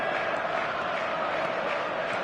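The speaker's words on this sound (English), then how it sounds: "Well, the crowd clearly like what they just saw." A dense eFootball 2024 stadium crowd roars steadily throughout, a loud, even wash of massed cheering with no breaks.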